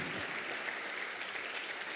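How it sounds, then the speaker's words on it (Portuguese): A church congregation at a Portuguese-language service claps in a soft, even, unbroken patter of applause, heard from some distance across the worship hall. "Se você concorda com isso, dê um aplauso ao Senhor."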